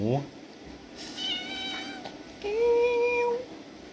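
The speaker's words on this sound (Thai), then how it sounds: "แมวแมว" A cat meows several times during a casual livestream at home, its harmonic cries rising and falling, with a longer drawn-out meow near the end; people talk in the background.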